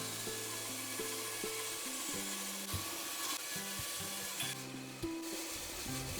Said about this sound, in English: Okay, now bandsaw time.